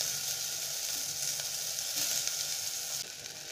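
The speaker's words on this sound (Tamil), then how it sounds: "இப்போ நம்ம தக்காளி நல்லா வதங்கிடுச்சு" Tomatoes and onions frying in a little oil in a pan, a steady, loud, close hiss of sizzling that runs unbroken throughout, with no voices.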